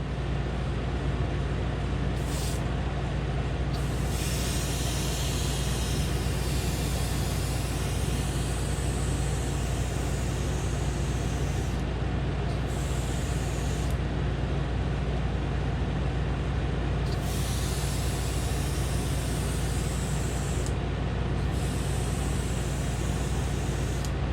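A spray gun applies paint to the body of a 1970 Chevelle SS 454, a continuous loud airy hiss with broadband rush that cuts in and out in several bursts over a steady compressor-like drone, no talking.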